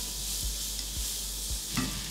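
Gravy cooking down in a pan on the stove makes a steady close sizzle and hiss, with a few soft stirring knocks at regular intervals and no voices.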